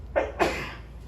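A person sneezes twice in quick succession, close and fairly loud, two short bursts against a quiet room with a faint low hum underneath.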